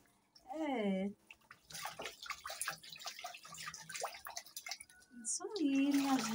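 Water splashing and dripping during a bath, soft and intermittent beneath voices talking throughout.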